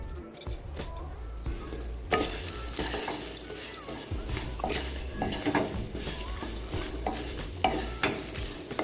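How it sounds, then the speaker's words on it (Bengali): Chopped ginger and chili frying in a pan while being stirred, a dense sizzle with repeated scraping and clattering of the utensil against the pan, close and continuous, with no talk. "দিয়ে একটু নাড়াচাড়া করতে হবে। চালের গন্ধটা যখন বেরোবে ততক্ষণ আমাকে নাড়তে হবে।"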